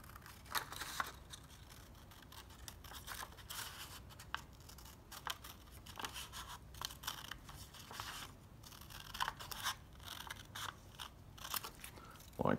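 A knife cutting through a leather welt for a knife sheath, faint crisp crunching and slicing strokes in an irregular series against a quiet background.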